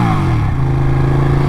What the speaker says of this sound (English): I would stop slowing down and rev bombing you